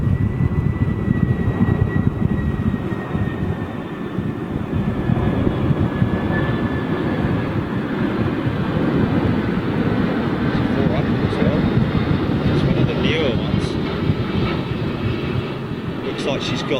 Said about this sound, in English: she's got full flaps. Could be heavy, could be quite heavy landing.